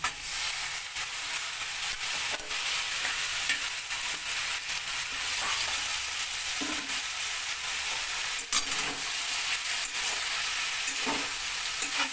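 Washed, finely chopped palta leaves fry and get stirred in a pan, producing a dense, continuous sizzle broken by scraping stirs, close and fairly loud throughout.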